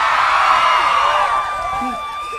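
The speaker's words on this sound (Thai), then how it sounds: "ถ้าจำได้ขอเสียงกรี๊ดหน่อย" A live comedy audience screams and cheers loudly, a sustained high roar of voices that slowly fades, with a few shouts near the end.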